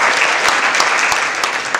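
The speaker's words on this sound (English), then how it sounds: "Give her an applause, Elizabeth." A conference audience at a Scrum gathering in Prague applauds, a brief burst of dense, steady clapping that fills the short moment without fading.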